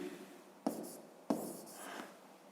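A pen or pencil scratches out handwritten numbers during a fifth-grade math lesson, two quick close strokes starting sharply, each followed by a soft trailing scrape against quiet room tone.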